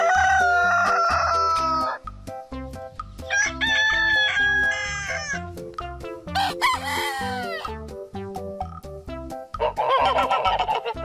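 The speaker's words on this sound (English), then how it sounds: "rooster, rooster," Rooster crows several times in loud, drawn-out calls, each separated by short pauses, with a steady musical backing underneath.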